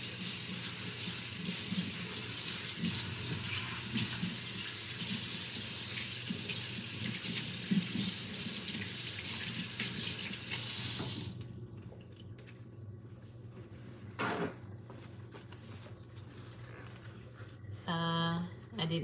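A kitchen tap runs steadily as a soup scoop is rinsed under it for about eleven seconds, then the water stops, leaving quieter clatter, a knock and a brief clink near the end.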